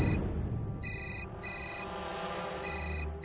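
A phone ringtone sounds in bursts of bright electronic tones, three rings separated by short gaps, with no talking over them.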